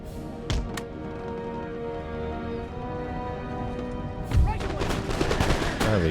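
Musket volleys in the Empire: Total War video game, ragged bursts of massed gunfire crackling over a dense battle soundscape, with a loud volley near the end; a voice talks at points.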